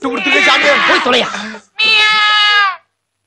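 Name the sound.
man imitating a cat's meow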